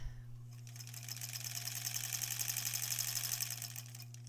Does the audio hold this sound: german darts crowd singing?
no